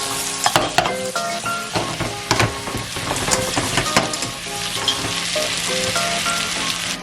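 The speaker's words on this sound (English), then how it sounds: "We're going to mix the potatoes in." Potatoes stirred gently into salted cod frying in a pan for Bacalhau à Brás, loud continuous sizzling with repeated close scraping and clattering strokes of the utensil and no talking.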